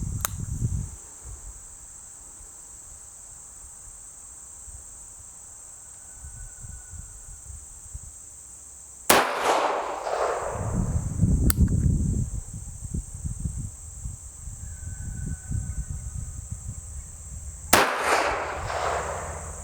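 A Bond Arms Rough n Rowdy pistol fires soft .45 Colt cowboy loads at a 15-yard target: three sharp, loud bangs spaced several seconds apart, with a steady high insect-like whine and quiet outdoor ambience between shots.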